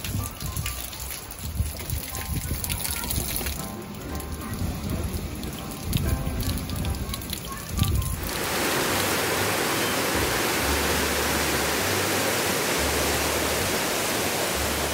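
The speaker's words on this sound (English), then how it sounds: "It's been raining non-stop here for a couple of days now." Steady rain falls outdoors on a foggy, windy morning, a dense, even hiss of drops on surfaces that grows louder and fuller partway through and continues without pause.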